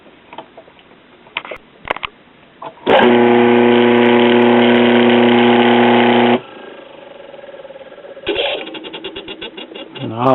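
The electric motor of an old wringer washing machine switches on abruptly and runs with a loud, steady hum for about three seconds, then cuts off. Quieter clicks and handling noises surround it.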